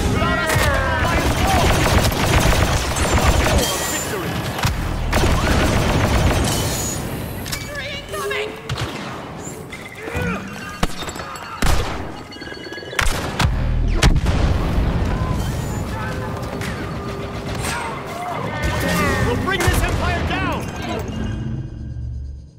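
Grenade blasts and heavy blaster fire in Star Wars Battlefront II, loud booming bursts and rapid shots packed throughout a chaotic battle, with players talking over the din.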